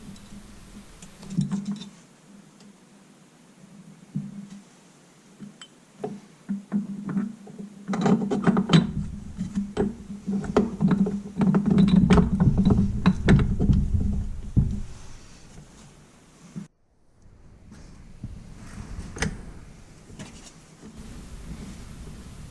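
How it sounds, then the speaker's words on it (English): Gears of a Yamaha GYTR gear reduction gearbox shifted by hand during assembly, a long run of close mechanical clicks, clunks and rattling that builds in the middle and then eases off. "Here's me running through the gears by hand."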